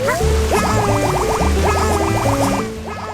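Video game waterfall at the base of a cliff in Yoshi and the Mysterious Book, with a continuous rushing water wash under a rapid bubbly chirping game tune that plays in repeated bursts.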